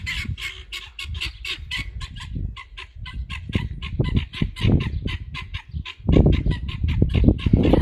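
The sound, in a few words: guinea fowl calling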